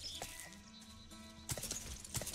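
A horse's hooves clip-clop in the fantasy action game Sacred 2, with faint low tones for a while, then sharp, closely spaced hoof strikes in the final second.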